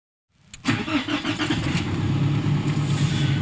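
A Nissan Pathfinder engine cranks and catches after a brief silence, then settles into a loud, steady running rumble close by, with no talking over it.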